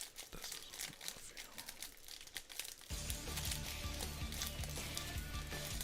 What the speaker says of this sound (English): they make it even harder because they put a plastic bag inside a plastic bag